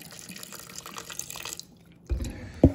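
Liquid trickles and splashes as alcohol is poured into a homemade hand sanitizer mixture, a soft continuous pour that stops briefly before a couple of louder sloshing splashes close by.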